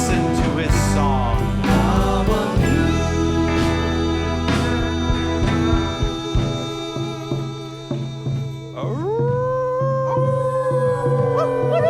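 A wolf howl with dog-like yips rises over dense layered music, followed by a long, sustained howl that bends upward and holds near the end.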